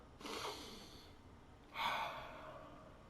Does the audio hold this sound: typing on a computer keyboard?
no